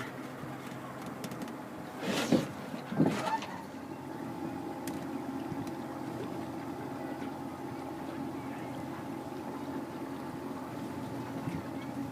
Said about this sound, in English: we've got a lovely little boat, and I'm steering it while Mars is in the back seat.